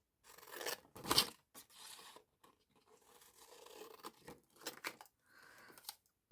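Scissors cutting a paper tag out of mixed media craft material, quiet close snips and paper rustles in short irregular bursts with pauses.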